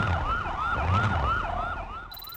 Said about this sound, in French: Pourquoi les pillards, ils ont une sirène de police?